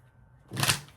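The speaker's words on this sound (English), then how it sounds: "One more shuffle." Tarot cards being shuffled by hand, a single brief riffling burst after a quiet moment, close and crisp, with no talking over it.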